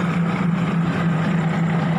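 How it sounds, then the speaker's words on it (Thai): Ordinary train 21 accelerating into a Thai railway station at night, heard as a steady, loud engine drone with a constant low hum and no breaks. "ตอนนี้ธรรมดาสองหนึ่งก็กำลังเร่งเครื่องมานะครับ"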